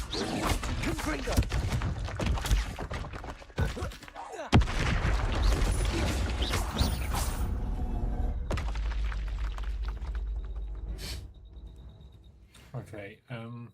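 Repeated explosive blasts and booming impacts from a Confringo fire spell in the video game Hogwarts Legacy, loud bursts with shattering debris, interspersed with a player shouting spell names.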